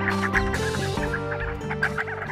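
Sandgrouse give soft, continuous clucking and burbling calls in the early morning at a watering hole, a dense overlapping chorus of many birds close by with no talking.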